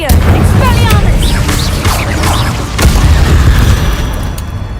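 Confringo blasting spells exploding in a Harry Potter video game, a loud, continuous series of booms and crackling bursts with spell-casting whooshes layered over them.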